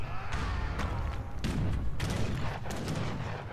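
Gunfire from a battle in the Age of Empires 3 strategy game, a dense run of overlapping shots and thuds layered into a loud, continuous clamour.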